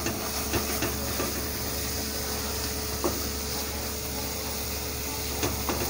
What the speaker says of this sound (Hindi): ये हमारा पक रहा है मसाला।